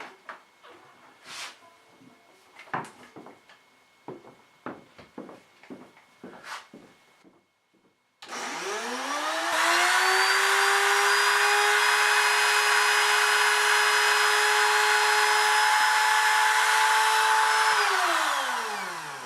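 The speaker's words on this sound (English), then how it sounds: "the second is to route out a couple of keyholes for hanging" Router cutting a pair of keyholes into the wooden back of a wall-mounted book rack; after a few soft bumps of handling, the motor spins up and whines loud and steady for about ten seconds, then winds down, with no talk.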